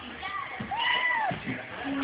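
A cat high on catnip meows in a few rising and falling calls, close and fairly loud, mixed with rustling and a person's voice nearby.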